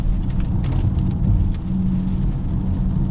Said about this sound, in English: Yep, we're back in the rain.